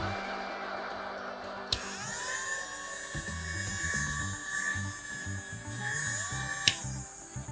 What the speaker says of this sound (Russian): Также имеется фен, который дует и издает звуки.